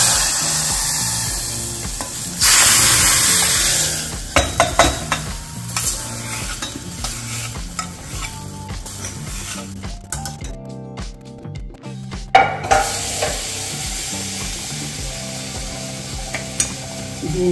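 Gongura leaves and chana dal being stirred in a frying pan over tempering, with loud close scraping and rustling strokes and a steady sizzle, an irregular series of stirs with brief pauses between them.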